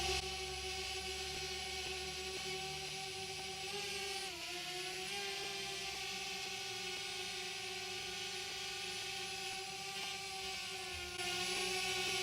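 A DJI Spark drone hovers and rises and falls, its rotors holding a constant high whirring drone close by and shifting slightly in pitch as it climbs and drops.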